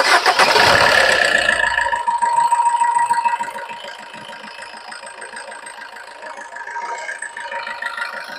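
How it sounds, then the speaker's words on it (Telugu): A used 2016 Maruti Ertiga ZDi+ diesel engine cranks loudly and catches, then settles into a steady, even idle with a slight rattle, close by. "మనం ఇంజన్ సౌండ్ చెక్ చేసుకుందాం."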